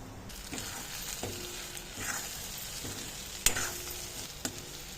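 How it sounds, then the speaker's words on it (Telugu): A nutri king meal maker curry fries in a pan with chili powder being added, giving a continuous sizzle broken by several distinct scraping and clanking stirring strokes, one louder knock near the end. "కొంచెం 1 నిమిషం ఫ్రై అయిన తర్వాత ఇప్పుడు నేను కారం యాడ్ చేస్తున్నాను."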